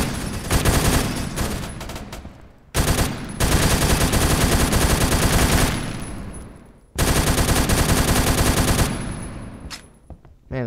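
Rapid automatic gunfire from a Roblox Phantom Forces match, loud and close, coming in three long sustained bursts separated by short pauses, with a few single shots trailing at the end.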